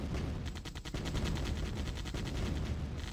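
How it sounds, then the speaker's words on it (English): Rifle gunfire in the real-time strategy game OpenRA Tiberian Dawn during a light-tank battle: dense, continuous rattling volleys, loud and sustained throughout. "Now there's rifles in the mix."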